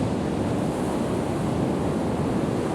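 Baltic Sea surf breaks on the shore at Kołobrzeg in cold weather, a steady broadband wash of waves mixed with wind rumble, continuous and fairly close, with no voices.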